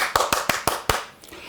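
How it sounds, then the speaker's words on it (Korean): A small group gives a brief round of hand claps at a local redevelopment meeting, five sharp spaced claps close by, then fading out. "이것도 박수"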